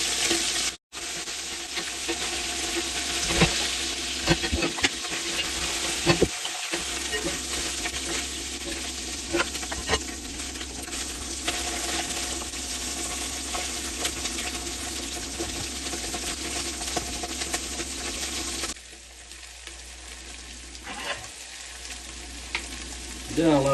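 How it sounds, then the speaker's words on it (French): Fish frying in batches in a large cooking pot give off a loud, steady sizzle with occasional stirring, running nearly continuously before easing to a quieter hiss near the end. "on arrive à la fin de la cuisson des poissons"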